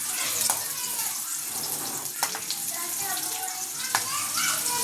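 Onion dropped into hot oil with curry leaves, sizzling and spitting close by with a few sharp crackles and stirring sounds, while faint voices murmur in the background.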